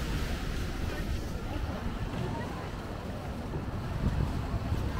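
Choppy sea rolls past an island walkway off Sabah, Malaysia, with a steady wash of water and wind buffeting the microphone close by. There may be a little faint talk mixed in.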